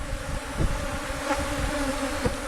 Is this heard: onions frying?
no